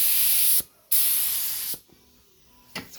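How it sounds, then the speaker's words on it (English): A spray gun lays down 2K primer in hissing bursts: two long sprays, a shorter one, then a final brief spurt near the end, each cutting off sharply to near quiet between passes. "I don't know if you hear me over the compressor."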